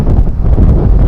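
Strong sea wind buffets the microphone with a loud, continuous roar near a bridge and posts by the sea.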